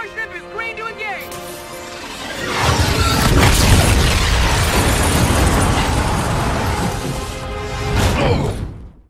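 Massive explosion in a Call of Duty Infinite Warfare space-battle scene, a booming blast and rumbling roar that sustains for several seconds after a stretch of music and voices, then dies away.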